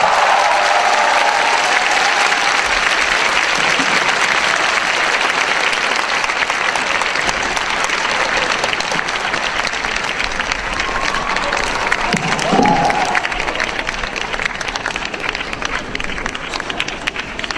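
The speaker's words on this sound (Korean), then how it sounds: "다시 한번 큰 박수 부탁드립니다." Sustained applause from a large outdoor political rally crowd, loud and steady throughout, with scattered shouts and a voice briefly rising over the clapping.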